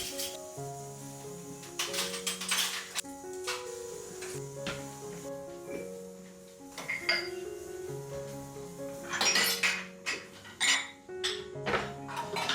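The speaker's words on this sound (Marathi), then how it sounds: "सर्वात पहिले मी भांडी लावून घेते, कारण काउंटर टॉप क्लीन असेल तर काम करायलाही इझी जातं" Kitchen pots, pans and utensils are set out on a countertop, with scattered metallic clinks, clanks and ringing knocks of cookware close by, some louder bursts near the end.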